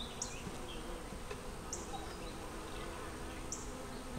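Honey bees swarm around an open backyard hive with five frames inside, a steady, dense buzzing hum close by, with single bees zipping past now and then and no talking.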